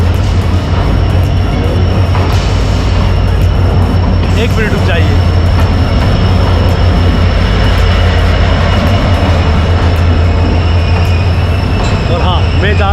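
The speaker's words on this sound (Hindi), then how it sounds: "मैं Colombo port central railway station पे हूँ।" Trains at Colombo Fort railway station in Sri Lanka: a loud, constant rumble of rolling rail cars with occasional wheel squeals, while someone speaks briefly over the din.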